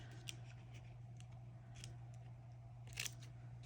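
Scissors trimming a paper edge for a Little Golden Book Christmas planner, a few short crisp snips at close range over a steady low hum.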